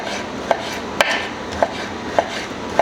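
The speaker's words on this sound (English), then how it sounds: "Chopping up my kielbasa." A knife chops through kielbasa sausage on a cutting board, five sharp knocks at a steady rhythm about half a second apart, close and fairly loud with no talking.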